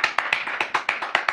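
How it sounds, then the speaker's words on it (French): Audience applauding at a New Year celebration honouring a wife, with roughly ten distinct, evenly spaced claps heard close and fairly quiet, no voices. "Applaudissez très très fort pour ma épouse, Magina Kenkam."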